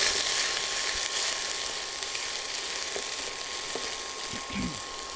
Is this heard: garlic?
yes